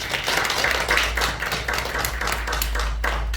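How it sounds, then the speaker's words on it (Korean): A church congregation claps together during a revival service, a steady close wash of many hands with faint pulses running through it and little talk. "우리 살아계신 하나님께 감사와 영광의 박수를 드립니다"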